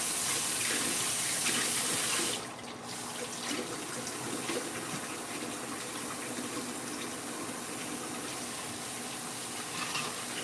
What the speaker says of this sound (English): Let me wash my hands and get my stuff out.